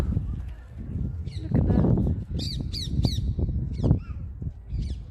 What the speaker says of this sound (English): I'm sure that many of you by now recognize that bird call, bird chatter.